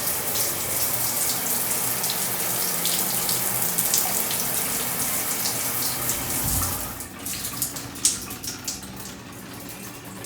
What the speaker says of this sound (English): check out the gigantic shower head. And let's see what happens. Oh yeah, that's like a rain shower there.